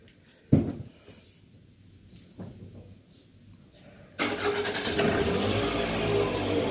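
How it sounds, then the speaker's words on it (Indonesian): A Toyota car engine with its stock exhaust cranks with a sharp burst, stumbles through a couple of attempts, then catches and idles steadily and fairly loud. "Ya, mesin udah hidup."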